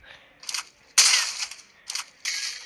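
Gloo walls deployed in a shooter video game, several loud mechanical clacks and whooshing bursts in quick succession, close and clear with no talk.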